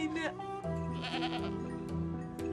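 A goat bleats nearby, a short wavering cry that repeats over a steady low background, with a few brief sounds breaking in.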